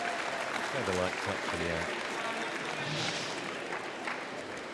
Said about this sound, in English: Certainly worthy of the applause from the coach.